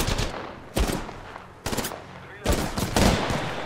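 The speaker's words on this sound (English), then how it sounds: "who's shooting from behind?" Gunfire in the video game Apex Legends, loud sharp bursts of automatic fire arriving in four separate volleys about a second apart, with no talking.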